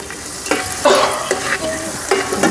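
Ginger and turmeric sizzle in hot oil in a pan while chicken curry is being cooked. A spoon scrapes and stirs in a few close strokes over the steady frying hiss.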